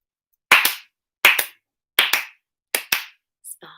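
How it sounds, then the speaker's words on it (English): Four pairs of sharp hand claps, evenly spaced, crisp and close, followed by a brief softer rustle or vocal sound at the end. "let's give our superstars for today a really, really big fireworks clap"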